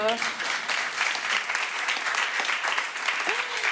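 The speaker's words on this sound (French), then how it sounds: "Oh oui, ça s'applaudit" Steady applause from a stand-up comedy audience in Lorraine, France, filling the whole stretch, dense and even, with a voice briefly audible underneath.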